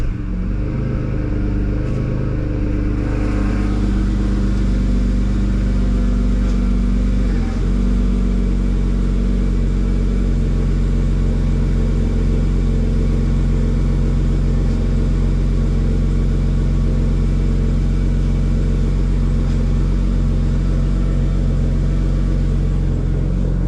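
A BMW E36 328i coupe engine idles steadily and loudly up close with the power steering being bled, a continuous low rumble with slight variations in load.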